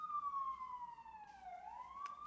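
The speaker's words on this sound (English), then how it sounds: "Police siren." A police car siren wails in a slow falling and rising sweep, heard clearly over a low background rumble.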